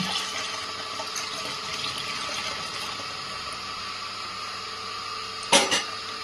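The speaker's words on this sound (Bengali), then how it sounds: "প্রথমে যে মাংসটা সেদ্ধ করেছি তার জলটা আমি এখানে দিয়ে দেব" Cooking water from boiled mutton is poured into a pot while layering a biryani, giving a steady, moderately quiet stream of splashing liquid that runs throughout, ending with a brief clunk near the finish.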